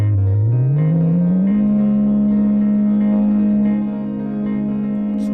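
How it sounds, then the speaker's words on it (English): An electric guitar processed through FM synthesis an octave up sustains a buzzy, distorted synth tone that glides upward in pitch at the start and then holds steady, loud and alone, before thinning slightly near the end. "I'm going to try 1 octave up and see how the FM sounds"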